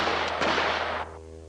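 Gunshots from a Western movie scene ring out as a couple of loud, sharp bursts over a dense, noisy soundtrack, then give way to a quieter humming tail.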